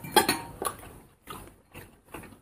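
A serving spoon clinks sharply against dishes at a meal of pork goulash and pork mechado, a few bright metallic taps close by, spaced out with short pauses.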